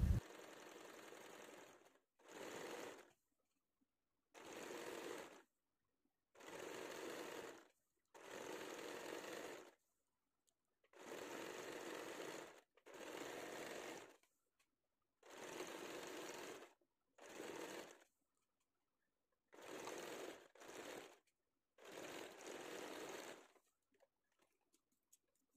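A domestic sewing machine stitches an old saree into a South Indian lehenga, running in about a dozen short, even bursts of rapid mechanical chatter with quiet pauses between them and no talking.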